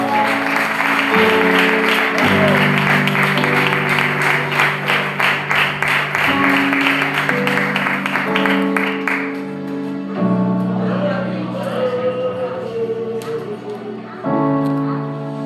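A church congregation applauds during a service, rhythmic clapping mixed with voices and music-like tones, loud and close, fading midway as a steadier hum and a voice continue.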